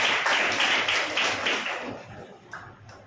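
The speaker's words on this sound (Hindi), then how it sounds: "हालेलुया, बजाओ ताली यीशु को।" Congregation clapping hands for Jesus during a Hindi church service, a steady run of rapid, dense claps filling the room at close range, thinning out toward the end.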